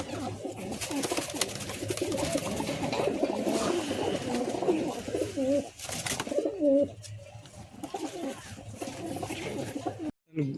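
Pigeons coo repeatedly in a loft of old-bloodline birds, with soft throaty calls rising over steady background chatter and talk throughout.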